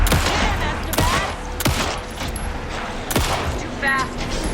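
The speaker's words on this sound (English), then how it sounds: "Anderson, pin him down with gunfire for me to get the light on him." Gunfire in the video game Alan Wake II crackles in several sharp bursts with booming shots spread across a few seconds, loud and close over game background noise.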